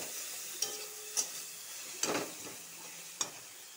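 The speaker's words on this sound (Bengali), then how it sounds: "এখন 1 চামচের মতন ঘি ঢেলে দিব, ঘিটার সাথে ভালো করে ভেজে নিব।" Spices fry quietly in ghee in a pan, a faint soft sizzle broken by four or five sharp clinks of a spoon against the pan.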